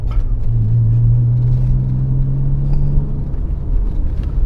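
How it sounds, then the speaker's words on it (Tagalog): A 1990s Mitsubishi Galant with a slightly loud aftermarket-sounding muffler drones steadily while driving in third gear, a deep low engine hum with a rising tone that holds for a few seconds, constant rumble and no talking. "The muffler sound will grow on you."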